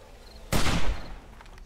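A single loud gunshot burst from a weapon firing at zombies in the video game 7 Days to Die, a sharp blast with a short fading tail over quiet background.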